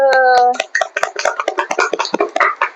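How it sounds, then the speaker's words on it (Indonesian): A second-grade primary school class claps hands together in a rhythmic, patterned beat right after a teacher's voice, the quick sharp claps close and loud in a classroom. "Kita tepuk tangan dulu."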